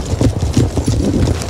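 Cavalry hooves charge in the video game Empire Total War, a dense, rapid drumming of many horses' hoofbeats, loud and continuous with a rumbling low thud.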